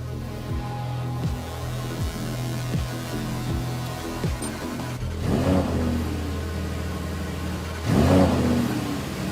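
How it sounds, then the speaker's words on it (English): Lamborghini Huracan V10 engine firing up for the first time on the factory line, a low steady drone with repeated rev swells rising loud and near, amid the whir of an exhaust extraction hose and cooling blower. "And then, the V10 of the Huracan is allowed to roar for the first time."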